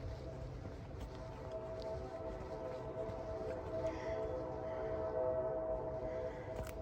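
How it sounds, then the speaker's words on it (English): Distant train echoing through a valley at night near an Indian mound, a steady low rumble with sustained horn-like tones rolling on throughout, outdoors with no talking. "that train echoes through the valley loud."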